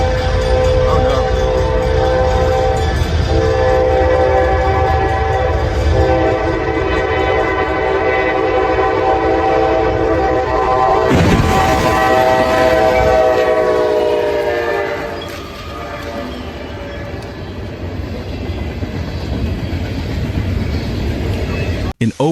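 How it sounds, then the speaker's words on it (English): Two massive locomotives, numbers 4004 and 4044, meet head-on in a train crash in Opal, Zacatecas: a loud, sustained horn blares over rumbling rail noise, then a sudden burst of impact near the middle, followed by continued grinding and roaring. "two massive trains, 4004 and 4044, collided head-on in a brutal crash caught on camera."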